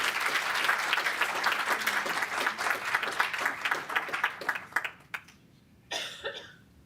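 An audience at a city council meeting claps in a dense burst of applause that thins out and stops, followed by a lone cough near the end.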